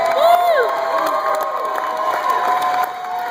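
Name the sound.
crowd cheering at a comedy roast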